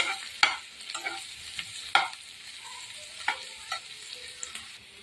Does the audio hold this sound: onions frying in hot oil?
yes